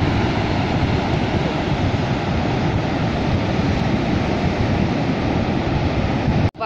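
Waves breaking at a beach, heard as a loud, continuous wash of surf and rushing water mixed with wind noise, ending abruptly.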